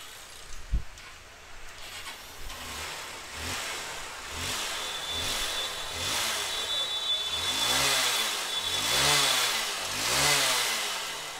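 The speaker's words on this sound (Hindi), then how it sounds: "बाइक को स्टार्ट करेंगे।" A Hero CBZ Xtreme motorcycle, running with its CDI coil bypassed, is started with a sharp crank and then idles steadily before revving in repeated rising and falling swells, close and loud.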